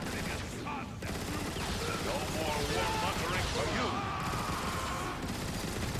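Bursts of rapid gunfire fill a Transformers: Fall of Cybertron battle, dense and continuous with electronic game effects layered over the shooting, while a player talks over the action.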